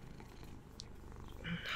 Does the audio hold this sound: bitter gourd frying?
no